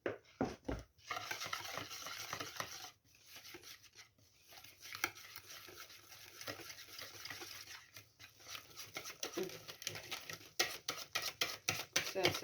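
Flour is whisked into crepe batter in a bowl, making irregular close scraping and tapping strokes that come in bursts with short pauses, while someone talks quietly at times.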